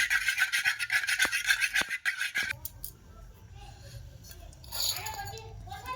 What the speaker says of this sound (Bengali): ডিমটাকে প্রথমে আমি ফেটিয়ে নিচ্ছি।